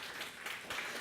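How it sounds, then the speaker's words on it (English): Keynote audience applause, a faint, steady wash of many hands clapping heard from a distance for about a second, with no voices over it. "there's applause for that too"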